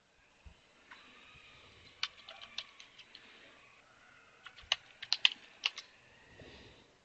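Typing a username and password on a computer keyboard to log into a CentOS 7 system: irregular bursts of crisp key clicks, a few spaced taps and then a quicker cluster, moderately close, with no talking.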